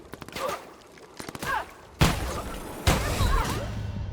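Shotgun blasts in the video game The Outer Worlds: two heavy, loud booms roughly a second apart, each with a long rumbling tail, following scattered lighter gunfire and impacts.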